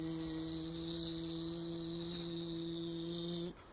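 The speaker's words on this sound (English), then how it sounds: "It's a bee." A bee buzzes with a steady, even drone for about three and a half seconds, then cuts off abruptly.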